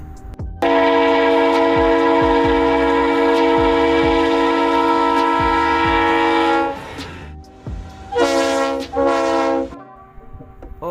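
A Leslie RS3L horn on a Santa Fe GE B40-8W or C40-8W locomotive sounds one long, loud chord for about six seconds, then two shorter blasts follow after a pause.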